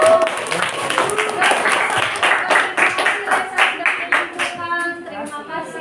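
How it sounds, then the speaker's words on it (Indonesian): A classroom group claps for a student after a presentation, scattered hand claps running throughout while a teacher and students talk over the applause. "Oke, bagus, tepuk tangan buat Raisa."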